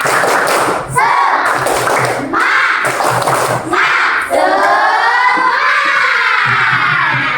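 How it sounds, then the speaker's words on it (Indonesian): Schoolchildren perform a rhythmic clapping cheer in a classroom, patterned bursts of claps with short gaps between them, loud and close, mixed with the children's chanted voices. "kita bikin dulu tepuk semangat"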